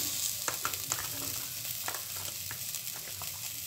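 Tomato, chopped green chili and ground spices frying in a pan, a steady close sizzle with scattered stirring clicks and pops, no talking.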